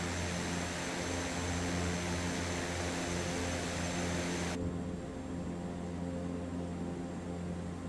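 Propeller engines of a Canadair CL-415 water bomber drone steadily at full power during takeoff in Microsoft Flight Simulator 2024, a continuous loud hum that turns duller and more muffled partway through.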